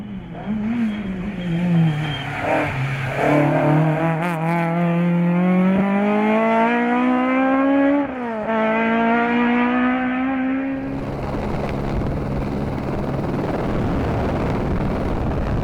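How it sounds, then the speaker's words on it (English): A Ford Escort RS historic rally car races along a stage at the Rallye du Chablais, its engine loud and close, revving up through the gears in rising sweeps before fading into road and wind roar. "Christian Blanchard and Ginny Gassman follow fourth and second in TER Historic Prix 81 with their Ford Escort RS."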